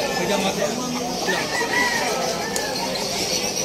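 Chickens cluck and chatter at a pet market in Malabon, faint scattered calls beneath busy crowd noise and nearby people talking.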